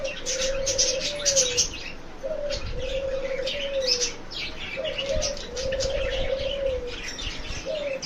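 Aviary birds coming down to bathe: a dove's repeated low coos sound in steady phrases beneath a busy layer of bright chirps and tweets, with occasional wing flutters nearby.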